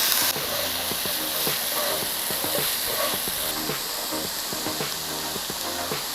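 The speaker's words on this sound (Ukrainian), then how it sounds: "Цибульку відправляю. Її буду обсмажувати до прозрачності." Onion sizzles and hisses steadily in a pan with garlic, a close, continuous frying crackle with repeated soft scraping and stirring taps throughout.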